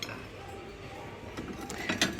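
Ceramic dishes and bowls clink as they are handled in a supermarket aisle, a few light, sharp knocks toward the end over a steady murmur of store background noise.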